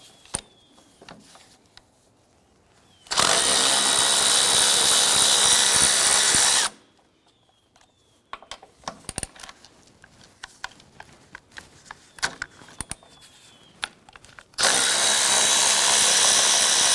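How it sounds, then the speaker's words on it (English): A power tool removing the 12mm strut tower brace bolts on a 2004-2008 Acura TL, two loud steady whirring runs of a few seconds each, with clinks and handling noises in the quieter stretch between them. "Going to remove our strut tower brace bolts."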